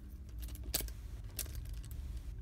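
Snap-on keys jangling near a Toyota under airbag diagnosis, light metallic rattles with two sharper clinks, close and quiet, no speech.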